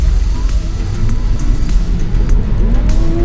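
Wuling Mitra EV electric MPV pulling away in sport mode on a wet road, a steady loud rolling drone with rising whine and tyre hiss throughout, close up and continuous, with no other sounds standing out.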